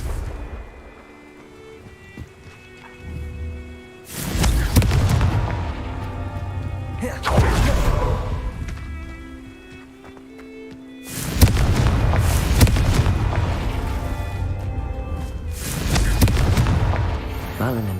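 Confringo spell explosions in Hogwarts Legacy burst as three loud, rumbling blasts spaced several seconds apart, each trailing off into crackling debris amid the game's ambient sound.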